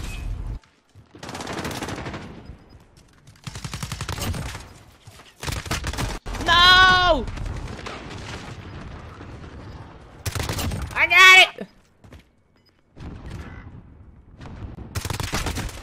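A PP19 submachine gun rips through rapid automatic bursts in Modern Warfare, loud and close, amid game effects and whooshing sounds, with someone talking between bursts.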